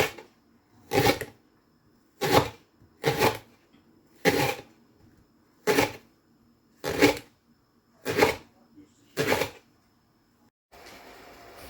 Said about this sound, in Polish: Obcinamy dupkę i Siekamy na małe kawałeczki